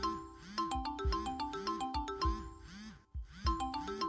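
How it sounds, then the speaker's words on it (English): A phone rings in a horror video game, repeated electronic ringtone bursts in a steady rhythm, clear and alone, with a brief pause before the ringing resumes. "Okay, we got a phone ringing."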